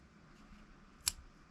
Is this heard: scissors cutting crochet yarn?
yes